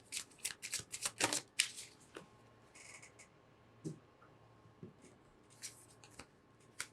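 Tarot cards are laid face down on a table in a string of soft, close slaps and shuffling rustles, denser at first and then sparser, with quiet gaps between and no voices.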